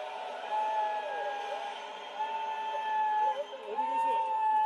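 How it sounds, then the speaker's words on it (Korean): A large crowd at a political rally in Gwangju shouts and cheers on cue, a sustained mass roar with whoops rising over it. "전방 함성 3초 발사!"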